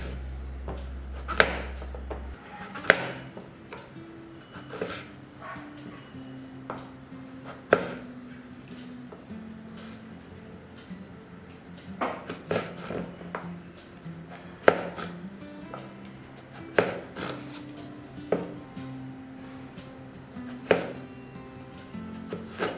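Vegetables for sambar being chopped with a knife on a board, a steady series of sharp, close knocks at irregular intervals, with no talking.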